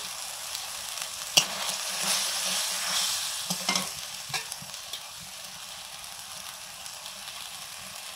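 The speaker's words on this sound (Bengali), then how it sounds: "মশলাটা কষানো হয়ে গেছে, এবারে দিচ্ছি চেরা কাঁচা লঙ্কা," Cooked spice paste sizzling in a pan as slit green chillies are added and stirred, for a magur fish and potato curry; bright continuous frying hiss with a few spoon clinks and scrapes, close and fairly loud, no talk.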